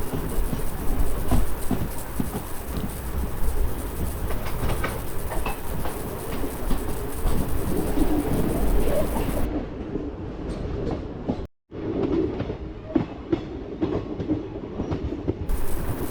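A train rolls through Khammam railway station with a continuous loud rumble and rhythmic clickety-clack of wheels over rail joints, holding steady for the whole stretch apart from one brief dropout.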